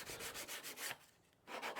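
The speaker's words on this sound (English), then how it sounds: "I'm using this sanding block to round off all the sharp edges and corners of the footrest." Rhythmic back-and-forth scraping of a sanding block on a wooden highchair footrest, rounding edges, quick strokes with a brief pause before resuming, close up.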